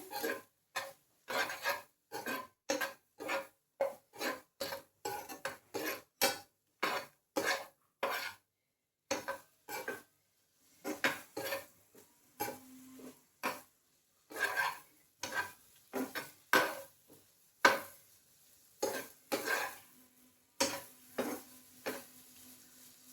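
A spoon stirs garam masala through paneer butter masala in a pan with repeated rhythmic scraping strokes, close and crisp, separated by short pauses, with a soft sizzle beneath.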